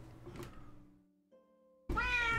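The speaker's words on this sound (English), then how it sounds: "Yes, cat." A cat meows twice, a soft short call at first and then a loud, drawn-out cry close by, with brief quiet in between and no speech.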